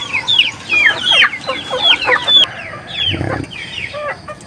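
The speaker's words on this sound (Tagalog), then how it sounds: "Subukan natin hulihin itong barako." A rooster clucks repeatedly nearby on a Filipino farm, a string of sharp, bright calls in quick bursts, with a single short spoken word from a person partway through.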